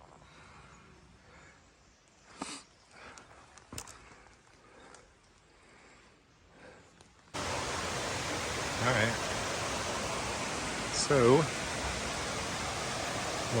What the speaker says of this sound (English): little Santitla Creek.